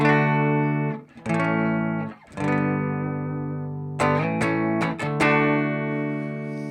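Clean electric guitar chords from a Telecaster ring out through a Morgan RCA35 amplifier, a few sustained strums with brief gaps, then quicker chord changes, bright and undistorted.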